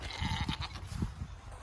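A goat on a farm bleats with a few quavering, nasal cries close to the listener, the calls coming in short bursts over a soft background hum.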